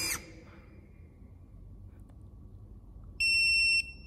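A short electronic beep from BlueBird PS 22 32 electric pruning shears' blade sensor, a steady high-pitched tone lasting about half a second, sounds near the end over a quiet low hum.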